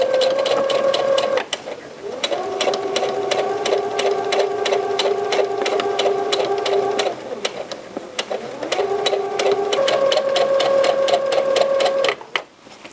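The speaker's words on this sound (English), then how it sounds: "you're just going to sew right on top of the previous stitching" A sewing machine stitches over earlier stitching on a pair of cropped pants, loud and close, with a steady rhythmic whir whose pitch shifts as speed changes, running almost continuously with brief pauses.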